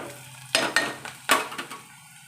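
Onion browned in a pan sizzles under a few sharp spatula scrapes and taps against the metal, close and distinct over a soft frying hiss.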